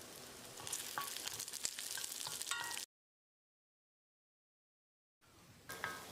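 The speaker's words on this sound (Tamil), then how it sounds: "இப்போ இதோட 10 வரமிளகாயும் சேர்த்து 1 நிமிஷம் கருகாத அளவுக்கு வறுத்துக்கலாம்." Garlic and ten dried red chillies fry in hot oil, a steady bright sizzle with occasional stirring scrapes, broken by a stretch of complete silence before the crackling resumes.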